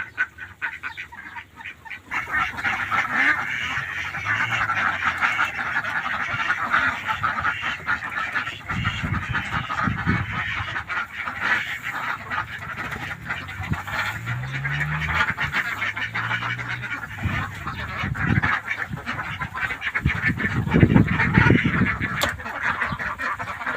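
A flock of farm-raised ducks quacks loudly and continuously close by, with many overlapping calls forming a dense, unbroken chorus.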